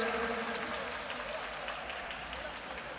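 Audience applause at a women's boxing match in Turkey, a broad wash of many hands clapping at moderate volume that holds steady and slowly eases off across the stretch.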